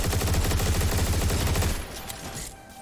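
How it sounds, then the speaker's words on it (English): Rapid bursts of enemy mortar fire in the video game Turbo Overkill, a loud dense run of overlapping blasts for under two seconds, then dropping away to quieter game noise. "He's got some mortar shots."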